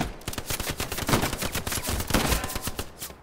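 Gunfire from the video game Hell Let Loose rattles in quick repeated bursts and single cracks, dense and close, continuing without a break and with no talk over it.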